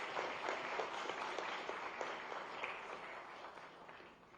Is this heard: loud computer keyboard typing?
no